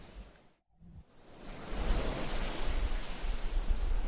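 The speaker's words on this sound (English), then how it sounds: "the mic on a CCTV camera would be picking up the sound of anything but just the wave sound" Ocean waves during Hurricane Milton picked up by a CCTV camera microphone, a broad rushing surf noise that drops out briefly near the start, then swells and stays loud and steady.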